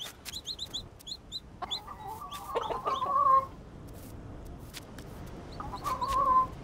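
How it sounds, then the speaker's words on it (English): A chicken in the video game Dinkum clucks in soft, repeated bursts over quiet ambient game sound, with two longer clucking calls standing out. "Oh, the little chicken."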